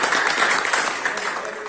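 Students in a vocational automotive body repair class clap together on cue, a brief, fairly close burst of quick, dense handclaps that fades slightly toward the end.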